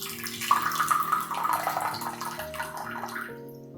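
Water pours into a porcelain gaiwan for brewing dancong oolong tea, a close splashing, gurgling stream with a rising tone as the cup fills, then tapering off near the end.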